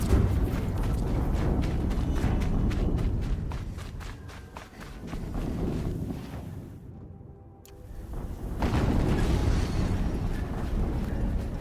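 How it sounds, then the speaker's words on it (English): Explosions in the video game Horizon Zero Dawn come as dense, rumbling booms with crackling debris, loud and sustained, fading briefly before another blast swells back up. "Another explosion."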